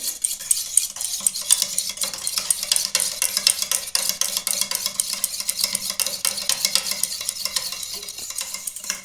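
Yogurt being beaten in a bowl, a rapid, even train of light clicking whisk strokes against the bowl, close and continuous with no voices.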